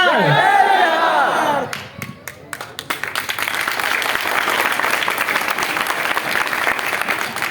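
Rally crowd at the Bihar Satyagraha aashram in Patna applauding loudly, a sustained wash of clapping with scattered cheers that follows a stretch of amplified singing.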